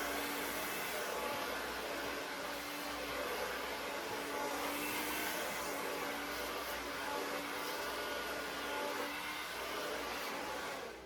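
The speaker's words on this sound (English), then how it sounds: "I'm gonna get her blow dried and then I will be back." A hair dryer blows steadily on a person's hair during a salon styling session, a continuous broadband whoosh that stays loud and unbroken throughout with no talking over it.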